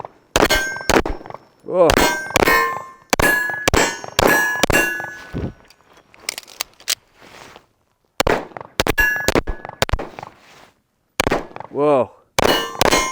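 Gunshots at a range, each followed by the ringing metallic clang of a steel target, fired in quick clusters with pauses between groups; a short exclamation is heard at one point.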